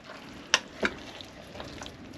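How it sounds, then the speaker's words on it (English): Spaghetti being stirred in a Ninja Foodi pot: two distinct scraping knocks of a utensil against the pot early on, then softer shuffling and faint clicks over a low background, close by and without speech. "I'm going to stir this up"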